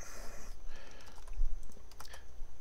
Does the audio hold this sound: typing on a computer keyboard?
yes